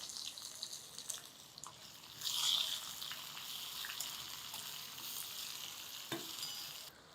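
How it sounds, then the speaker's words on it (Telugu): Onion pieces hit hot oil for a tempering with hing, producing a faint continuous sizzle with a brief louder burst and light stirring scrapes, heard alone without talk. "ఒక్క చిటికెడు ఉప్పు చల్లితే ఉల్లిపాయ క్షణాల్లో వేగిపోతుందండి"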